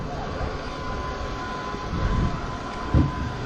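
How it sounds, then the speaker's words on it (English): The fuel pump on the number one engine of a formation-flight aircraft hums steadily during engine priming, a constant mechanical drone with a faint tone and one brief thump near the end. "that's the fuel pump on the #1 engine"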